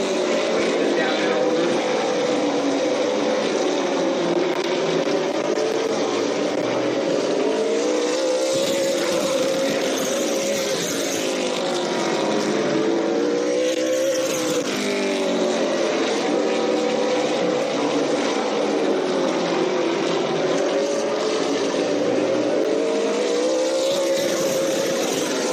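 Race cars roar around the 4-17 dirt track during a B-Main heat, with engines droning and rising and falling as they pass in waves, loud and continuous throughout, while an announcer talks over the noise.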